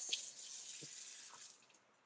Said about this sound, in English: Chucking away the wine.